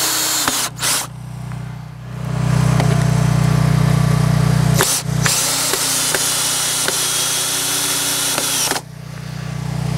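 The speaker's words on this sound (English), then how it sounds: "I gotta take some of these 2x4s and screw them up" A power drill drives screws into 2x4 lumber while bracing a solar array frame, with a loud sustained whir broken by short pauses and brief bursts, close up and with no talking.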